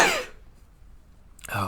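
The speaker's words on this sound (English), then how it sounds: "I'm going to sneeze again" A single sharp, explosive sneeze bursts out at the start and fades quickly, followed by near silence, then another short vocal burst at the end.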